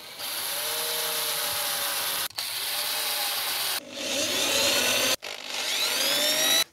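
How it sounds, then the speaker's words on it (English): A power drill whines steadily at close range, pausing briefly twice, its pitch rising and shifting as the bit bites, with no talking. "We are going to have to do some drilling with a larger drill bit from the other side anyway"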